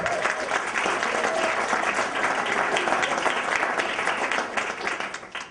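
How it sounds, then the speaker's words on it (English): An audience gives sustained applause for guest speakers at a presentation, a dense wash of many hands clapping that holds steady and then tapers slightly near the end, with no voices over it. "So give a round of applause for both of them."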